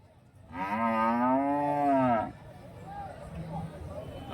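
A hand-milked dairy cow at the Santhipuram cattle market in Andhra Pradesh gives one long, loud, close moo lasting under two seconds, followed by quieter market murmur.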